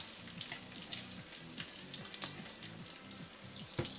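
Bacon and onions frying together in a pan, a faint, steady sizzle with light crackles and occasional clinks of a utensil, heard close but quiet, with a low rhythmic hum running underneath.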